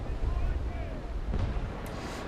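Naval Action ship cannons firing in a sea battle, heard as a dull rumbling boom with a faint sharper report near the end, amid constant low wind and water noise.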